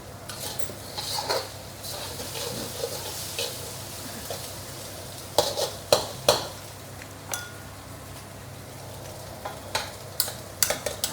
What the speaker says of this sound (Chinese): 它一路炒一路香了。